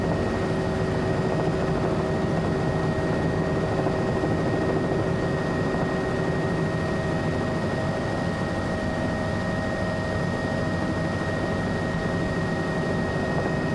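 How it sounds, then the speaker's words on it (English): Continuous loud Bell 206L3 helicopter drone in Microsoft Flight Simulator 2024, with whirring rotor noise and a steady hum, unchanging throughout. "the next challenge is going to be landing this very twitchy helicopter"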